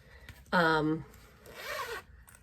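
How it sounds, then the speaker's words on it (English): A bag's zipper is pulled open in two quick passes, a sharp close rasp followed by a shorter, softer second run, with quiet room tone around it. "Zipper bag."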